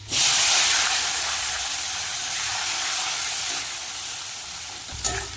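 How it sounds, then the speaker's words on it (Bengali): Onion, tomato and black cumin drop into hot oil left from frying dried fish, bursting into a loud hiss that gradually settles into a steady sizzle, with a brief clatter near the end. "পেঁয়াজ আর টমেটোটা একটু লাল লাল করে ভেজে নেব"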